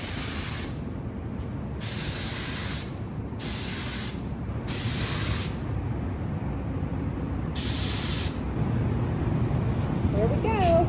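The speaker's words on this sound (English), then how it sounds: "spray the primer on" A spray gun applying primer to a 41-year-old truck hisses in several short and long bursts over a low mechanical hum, with brief pauses between passes.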